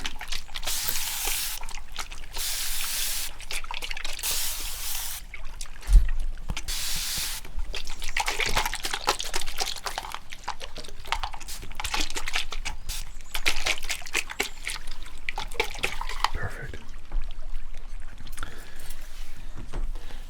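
Liquid pours and trickles steadily with splashy, gurgling bursts, close by and continuous throughout, with no voices.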